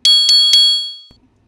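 Notification bell sound effect: three quick bright dings in a row, loud and clean, ringing out and fading over about a second, with no voices.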